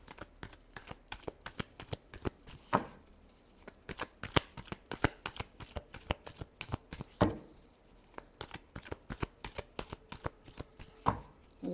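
Tarot cards are shuffled by hand in rapid bursts of crisp riffling and flicking, close and steady with brief pauses between rounds.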